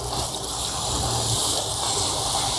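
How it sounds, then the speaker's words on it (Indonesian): Well water pours steadily onto the moss or root medium of a potted aglaonema, a continuous loud splashing gush that carries on without pause, close by and alone. "Ini disiram benar-benar madet ya, jadi untuk mengikat apa akar ke media."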